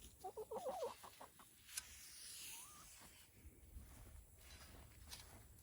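Chickens in a small backyard container garden give a quick run of soft clucks at the start, then fall quiet, leaving only a faint, distant outdoor hush.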